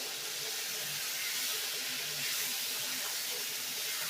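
A steady, even sizzle hisses close by as lote fish coated in spices fries in hot oil, continuing without a break and without voices.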